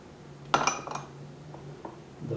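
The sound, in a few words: stirring chili with spices in a pot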